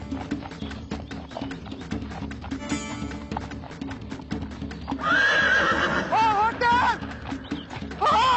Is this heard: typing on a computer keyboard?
no